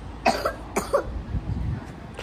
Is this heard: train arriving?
no